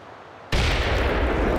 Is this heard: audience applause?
no